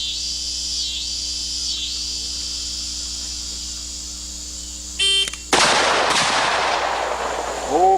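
A revolver fires a powerful .45 load outdoors, one sudden loud blast with a ringing tail right after a short timer beep, while crickets chirp steadily in the background.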